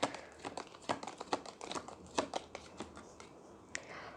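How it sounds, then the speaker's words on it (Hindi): Smooth-surfaced tarot cards are shuffled close up in a quick run of soft riffling flicks and slaps, fairly quiet and with no voices. "ये कार्ड्स बेस्ट है शफल के लिए, मतलब इतना स्मूथ सरफेस है ना"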